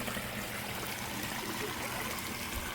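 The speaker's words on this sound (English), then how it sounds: "I like the smaller one with the waterfall" Water from a small garden pond waterfall trickles and splashes in a steady, soft, continuous wash with no break.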